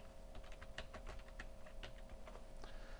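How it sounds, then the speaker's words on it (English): Quiet keystrokes tapped on a computer keyboard in an irregular, steady run, with a faint constant electrical hum underneath and no voices. "so one can just begin and start typing"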